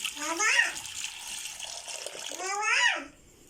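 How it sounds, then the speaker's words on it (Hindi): About half a litre of water is poured into a pressure cooker while making raw mango sharbat. Two short pours splash in, each rising in pitch as the vessel fills, with quiet room sound between. "इसमें अब हम डालेंगे तकरीबन ½ लीटर का वो पानी डालेंगे।"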